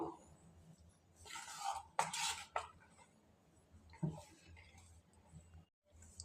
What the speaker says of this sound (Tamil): கட்டிகள் இல்லாமல் நல்லா கலக்கிக்கோங்க